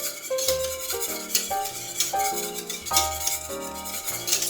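A spoon or whisk keeps stirring chocolate cream pie filling in a pan without pause, with close scraping and clinking against the pan under quiet background music and no talking.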